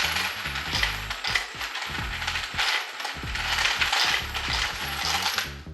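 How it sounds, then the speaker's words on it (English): Brass casings clatter and rattle loudly and continuously as the case feeder of a Dillon Precision RL1100 ammunition reloading press feeds them into a tube, with rhythmic mechanical clicking underneath and no talking. "This is the case feeder filling up this brass tube right here."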